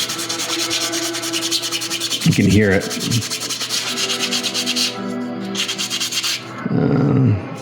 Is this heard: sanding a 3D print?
yes